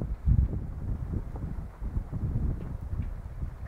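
Gusty wind blows across a microphone outdoors, a steady low rumbling buffet with stronger bursts, near and fairly loud throughout, no voices.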